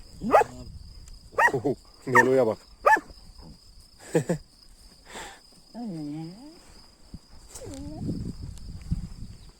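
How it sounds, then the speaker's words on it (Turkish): Kangal dogs bark in several sharp bursts among sheep, interspersed with a voice speaking, over a constant high insect-like whine in the background. "Şimdi dişi köpeğe havlayacak."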